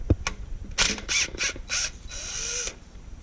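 Ratchet wrench working 10 mm transmission pan bolts loose on a 2004 Infiniti FX35, several short bursts of close metallic ratcheting clicks with brief pauses and a final longer run.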